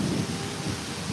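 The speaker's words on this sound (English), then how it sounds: "Yay, rain." Steady rain falls during outdoor tai chi practice, a dense, even hiss with a low rumbling undertone throughout and no voices.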